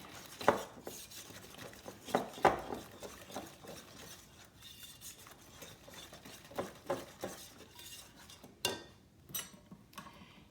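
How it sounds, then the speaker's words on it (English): Eggs for pumpkin custard whisked in a bowl: soft, irregular clinks and taps of a utensil against the bowl, quiet and close, with a few sharper knocks. "Give these eggs a little mix in."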